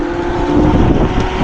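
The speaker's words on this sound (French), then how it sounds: "lui avec ses pneus off-road là, je sais pas si tu entends mais ça fait un de ses boucans" Steady low rumble of an electric scooter with off-road tyres rolling on a road, a constant droning hum with a faint tonal whine, close and continuous without speech.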